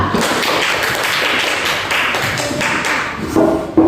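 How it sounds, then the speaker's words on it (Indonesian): A group presentation in a classroom setting greets the presenting group with steady clapping, a dense continuous patter of many hands filling the room, with a brief faint voice near the end. "Kasih aplaus dulu untuk kelompok 2"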